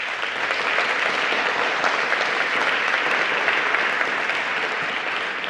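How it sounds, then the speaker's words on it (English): An audience at a Bloomberg Philanthropies healthy-cities partnership event gives sustained, even applause, a dense wash of many hands clapping with no voices over it. "A nice round of applause for them."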